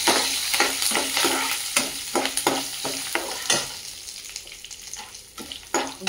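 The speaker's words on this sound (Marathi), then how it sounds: "आता डाळ ही थोडीशी फ्राय झाली आहे" Dal frying in hot oil in a pan with curry leaves and peanuts for lemon rice, a steady sizzle broken by repeated sharp scrapes of a spoon stirring, close up, with no talking.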